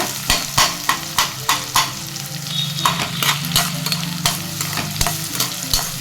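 Three finely chopped onions sauté in generous oil for an egg kuzhambu, crackling loudly and close while a spatula scrapes and taps the pan in a quick, regular rhythm, with no voices.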